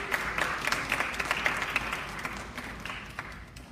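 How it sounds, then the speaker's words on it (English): A student election debate audience gives a round of applause for the advisors and food providers, dense clapping sustained throughout and slowly tapering toward the end. "So let's give them all a round of applause"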